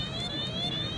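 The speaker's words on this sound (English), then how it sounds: "and the siren goes off there" A toy police station jail playset sets off its electronic siren, a continuous wailing tone, close and clear, with no talking.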